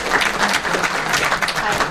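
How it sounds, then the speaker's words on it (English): Audience applause at a hacker conference's machine learning talk for a volunteer called up on stage, dense and even clapping throughout the short stretch with no speech over it. "Big round of applause."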